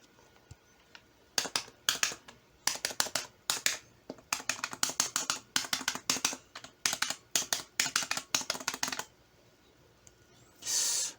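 Sharp plastic clicks from the buttons of a Daheon DHU 3300 large arcade joystick, pressed in quick irregular bursts and rapid multi-click runs, close and crisp, with no talking.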